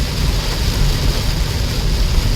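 Rain falls at night on a moving car, a steady, even wash of noise blended with low road and engine rumble throughout, with no voices.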